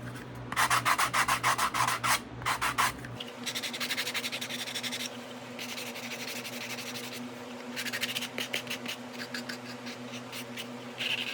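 Edges of a Kydex holster are blended and softened by hand, giving bursts of rhythmic rasping rubs, close and crisp, with quieter steady scraping strokes between them over a low hum.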